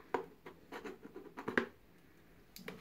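Sharp scissors snip and scrape at the cardboard packaging of an AMD Ryzen 7 2700X processor box in a series of short, quiet, irregular cuts close up.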